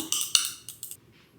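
A spoon stirs maple syrup into a cup of Nespresso maple pecan coffee, giving a few quick, close metallic clinks in a short burst before going quiet, with no talking.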